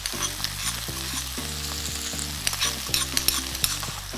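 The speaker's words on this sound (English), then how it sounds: "We're going to stir fry this for just about a minute" Prawns with ginger and garlic stir frying in hot vegetable oil in a pan for Chiu Chow chilli prawns, a loud continuous sizzle with scraping stirs and occasional sharp pops, no talking.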